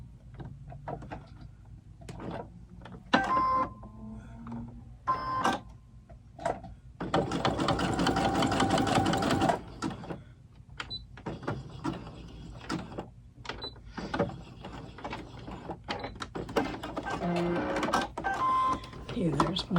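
A sewing machine runs a short zigzag stitch across the corners of an upcycled fabric doll blanket, a dense mechanical whirr for a few seconds among lighter handling clicks and rustles, with someone talking over parts of it.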